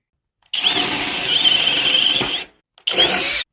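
A compact DeWalt DCD 850 cordless drill runs in drill mode, whirring loudly and close in one roughly two-second burst, then a shorter second burst after a brief pause.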